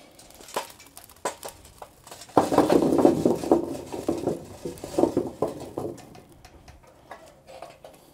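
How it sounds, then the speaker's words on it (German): Cast-iron Dutch oven lid set in place, a few close metallic clinks and scrapes with clattering handling noise, loudest in the middle and tapering to sparse taps. "Jetzt kommt erstmal der Deckel drauf."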